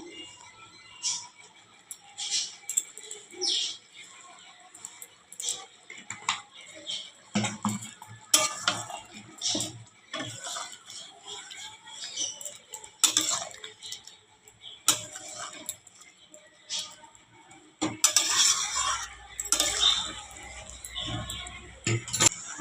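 Chicken curry in a pot is stirred with a utensil, giving intermittent clinks, scrapes and taps against the metal, quiet between strokes and busier toward the end.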